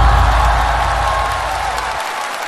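Audience applause at a televised comedy contest stage show, a dense steady wash of clapping that carries on loudly throughout and thins slightly toward the end.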